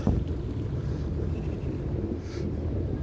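Thames Motor Yacht Club motor yachts cruise on the River Thames between Sunbury and Hampton during the yearly sail past, a steady low engine and water rumble heavily mixed with wind buffeting on the microphone.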